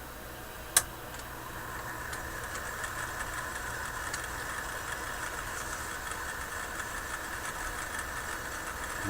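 A Stromberg Carlson 1162 tube radio record player with its turntable spinning at 78 rpm gives a steady, fairly quiet mechanical hum and rumble, with one sharp click near the start and no talking.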